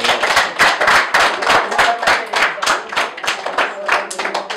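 A church congregation claps together in praise of God, fast rhythmic hand claps close and loud throughout, with a few scattered voices underneath.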